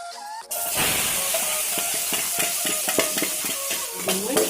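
Grated carrot dropped into two spoonfuls of hot ghee in a wok for milk-and-sugar halwa, bursting into a loud, steady sizzle with repeated stirring scrapes and clinks.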